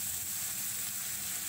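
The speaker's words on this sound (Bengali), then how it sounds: "মাছ ভাজার জন্য তেল দেব।" Oil sizzles in a hot kadai for frying salt-and-turmeric-rubbed bata fish, a steady, soft hiss that stays even and unbroken for a moment.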